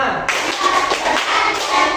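A group of people clapping in a rhythmic hand-clapping game, the round of five claps, a quick run of sharp taps close by with voices mixed in.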